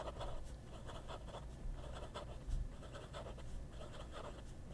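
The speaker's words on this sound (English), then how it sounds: "there is absolutely no direction where this nib doesn't write. Okay? Fast writing." A Pineider fountain pen nib scratches quickly across paper in rapid, continuous strokes, a steady close-up scribbling rasp with no talking.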